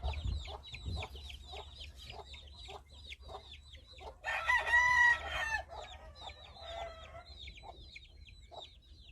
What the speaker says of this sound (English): There's a red chicken with like, and there's a black one.